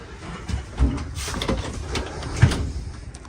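A closet door in a fifth wheel trailer is handled and shut, giving scraping rattles and two dull thumps amid a broadband rumble, heard close.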